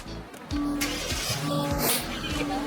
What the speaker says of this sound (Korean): 그래도 시동 한번 걸어보겠습니다